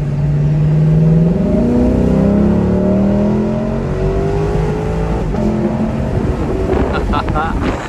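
A 2021 Lexus LC500 Convertible V8 pulls hard from inside the open cabin, its exhaust note rising through the gears with sharp cracks at each upshift, loud and close, with wind rush around it.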